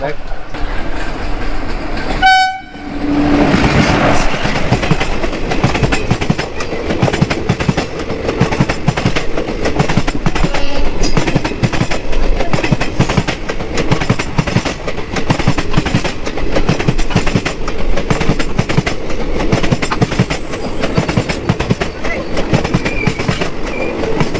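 Howrah–Katihar passenger train rolling past at close range, its horn blaring briefly before a loud sustained rumble and clatter of wheels over rail joints; voices are faintly mixed in.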